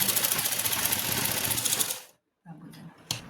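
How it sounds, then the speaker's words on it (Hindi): A sewing machine runs a straight seam on salwar fabric with a fast, steady close-up whir for about two seconds, then stops. A brief pause follows, then a few faint handling sounds. "तो ये बिल्कुल सीधी सिलाई लगाएंगे बैक से।"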